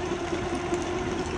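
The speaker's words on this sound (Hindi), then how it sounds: "ये पहले हाई जी चल रहा है ट्रैक्टर" Steady tractor engine drone running in high gear, a continuous mid-low rumble with faint vibration and no talk.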